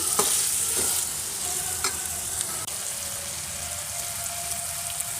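Steady sizzling of chopped tomatoes frying in a hot pan, with a few stirring scrapes near the start, continuous and close.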